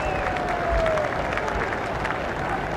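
A cricket crowd at Edgbaston applauds and cheers for fast bowler Brett Lee during a Test match, a steady, distant wash of clapping and crowd noise with no single voice standing out.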